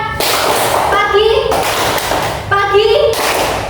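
Children clapping in a classroom clapping game, sharp rhythmic bursts of hand claps in two quick sets, close and loud, alternating with children's voices chanting.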